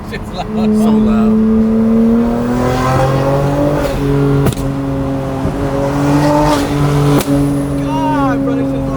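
A loud stock car engine revs and holds high, its pitch climbing in steps through the gears, close and steady for the whole stretch with a few sharp transients.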